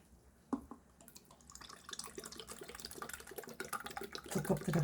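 Jin-ganjang soy sauce pours into a pot of pickling brine for perilla leaf jangajji, a steady close splashing trickle that builds in strength.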